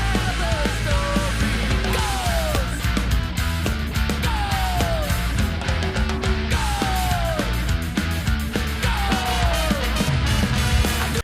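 Upbeat ska music with a steady offbeat rhythm and bright horn-like melodic phrases, played loud and continuous without any talking.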